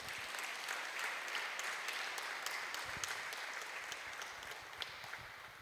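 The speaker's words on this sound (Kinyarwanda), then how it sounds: "Kambasabe muntize amashyi dushimire Padiri ku nyigisho nziza." A church congregation applauds after a priest's sermon on marriage, with fairly faint, sustained clapping from many hands filling the space, with no talk over it.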